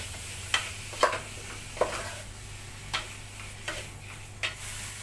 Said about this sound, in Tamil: சேர்த்துட்டு லோ ஃப்ளேமில் அப்படியே மிக்ஸ் பண்ணிக்கலாம்.